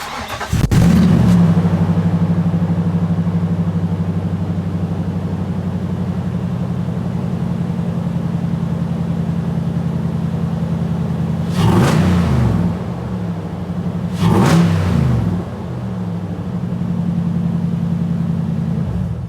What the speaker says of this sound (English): this is with the Airaid mass airflow cold air intake. It's a long name, and this is how it sounds.